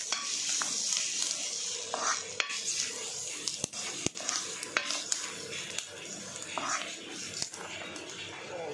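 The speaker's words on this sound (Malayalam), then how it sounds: "പെരിഞ്ചീരകം നല്ലതായിട്ട് ഇളക്കി കൊടുക്കുക." Fennel seeds and ground spices are stirred in a hot pan, with a soft sizzle under repeated scrapes and clinks of a spoon against metal. A voice talks over the cooking throughout.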